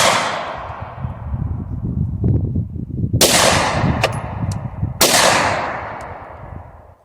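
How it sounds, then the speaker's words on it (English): Underwood ammunition fired outdoors, with loud, sharp gunshots cracking and echoing off into a long decaying reverberation, the reports spaced a couple of seconds apart. "Firing."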